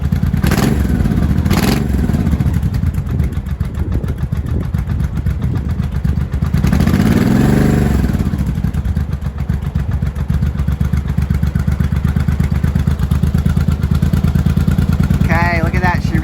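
A carbureted motorcycle engine, from an 82 Yamaha Maxim 750 or 83 Honda Shadow barn find, idles with the choke off during idle tuning, a loud, close, steady low throb with a slight lift in speed midway, while someone talks over it.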